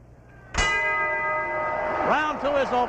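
A boxing ring bell clangs once sharply to end round two of a world championship fight, its bright metallic ring sustaining and decaying as a commentator's voice rises over it.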